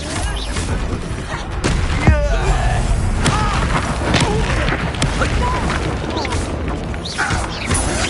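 A Confringo blasting spell going off in Hogwarts Legacy during a duel with a Rookwood, a booming impact with crashing debris amid dense, loud combat noise and scattered thuds.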